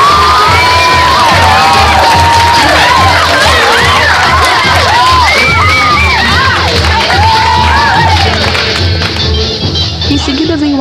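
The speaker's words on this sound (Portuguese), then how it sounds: "E com gritinhos." Carnival crowd at a Rio samba school parade claps and shrieks with high-pitched cries and whoops, a loud, continuous roar of many voices and hands close by, sustained for around ten seconds.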